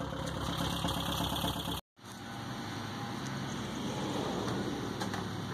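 A car engine idles steadily with a rapid mechanical ticking throughout, close and even, briefly cutting to silence before resuming.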